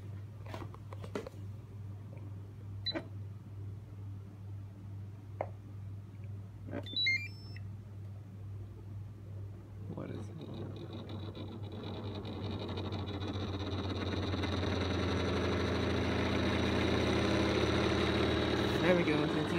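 A Hatari cross-flow tower fan in an apartment starts from off to its high setting: a few faint clicks and beeps, then a rushing airflow that swells steadily and holds loud and even.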